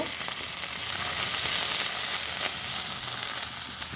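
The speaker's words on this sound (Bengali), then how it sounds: "এবার পরিমাণে হালকা একটু সরষের তেল নিব। তারপরে হালকা এগুলো ফ্রাই করে নেব।" Food frying in mustard oil, a continuous close sizzling hiss that holds steady for several seconds with faint scattered pops and no talking.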